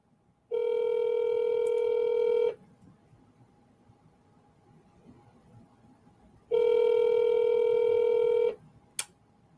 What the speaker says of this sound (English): Let me try calling him back now that I have his number.